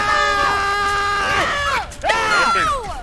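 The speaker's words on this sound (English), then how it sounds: "Quit screaming." During a multiplayer VR shooter game session, several people scream loudly and in long, wavering shrieks that overlap and rise and fall, with a short break partway through before the yelling resumes.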